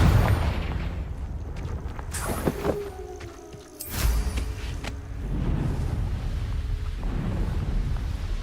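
A Confringo fire-blast spell explodes in Hogwarts Legacy, a loud booming burst near the middle followed by rumbling, crackling blast noise, with further impacts and a steady roar of game ambience throughout.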